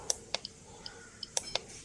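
Geiger counter dosimeter with an SBM-20 tube ticking out sharp, irregular clicks, about seven in under two seconds, close and fairly quiet against a faint background.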